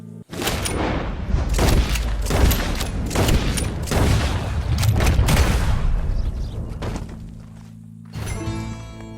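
Gunfire in the video game Red Dead Redemption 2, a rapid series of loud booming shots spread over several seconds, ending in a brief lull before a final ringing tail.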